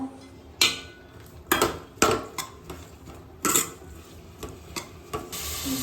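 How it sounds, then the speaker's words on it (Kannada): Tomato, garlic and coconut frying in oil in a pan for mutton sambar, heard as a quiet sizzle broken by several loud metal spatula clanks and scrapes against the pan, close and irregular, without talk. "ಟೊಮೆಟೊ, ಬೆಳ್ಳುಳ್ಳಿ, ಕಾಯಿ, ಇದನ್ನೆಲ್ಲ ಚೆನ್ನಾಗಿ ಫ್ರೈ ಮಾಡ್ಕೋಬೇಕು"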